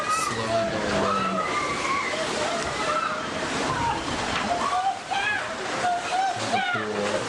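Ocean water rushes and sloshes violently into a cruise ship, a dense churning roar of splashing water with people's voices mixed throughout.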